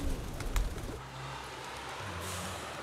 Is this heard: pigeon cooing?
yes